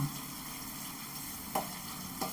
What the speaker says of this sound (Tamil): சும்மா ஒரு கிறிஸ்பியாக வறுக்கிறதுக்காக தான் இந்த மாதிரி எண்ணெயில் போட்டு நம்ம வறுத்துக்கணும்.